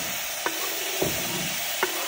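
Tomato frying in a pan for a drumstick leaves dal makes a continuous, dense sizzle, with three soft knocks of a stirring spoon spaced through it.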